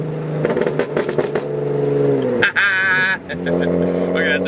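A Nissan 370Z six-cylinder engine revs up close and loud, holding a steady drone that surges and drops a couple of times, with a person talking over it.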